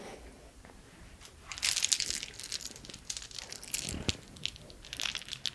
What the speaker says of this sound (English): You'll hear the slight clicking of my bracelet. These are several dried seeds